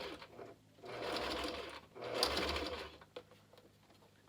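A sewing machine stitches over a small pinched ruffle on a rococo-style cosplay dress, running in two short bursts of fast, whirring stitches with quiet pauses between, close and fairly soft.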